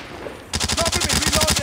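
Rapid automatic AK-117 fire in a Call of Duty match, a quiet half-second then a loud, steady stream of close shots with no pauses.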